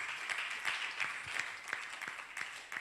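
A church congregation claps to welcome a visitor from the United States during a service. The clapping is faint and distant, with scattered, uneven claps that soften slightly toward the end.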